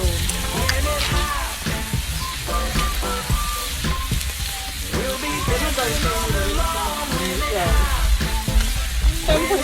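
Fish fries in butter and garlic with a constant close sizzle and dense popping crackle, while faint voices murmur in the background.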